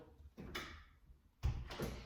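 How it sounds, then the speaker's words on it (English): An indoor door is pushed shut, giving a soft scrape followed by a firmer closing thud near the end, heard close up with no talking. "I'm going to shut this door."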